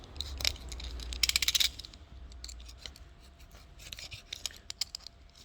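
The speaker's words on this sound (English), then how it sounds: "Then you just want to cut off the top" Small snips cut off the top of a tyre puncture repair plug during a roadside-style repair, with a short burst of quick cuts followed by lighter scattered clicks and scrapes, fairly close and quiet, with no talking.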